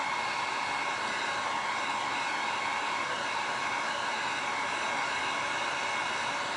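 Hair dryer blowing to dry resin beach art, a constant airy roar with no breaks and no voices.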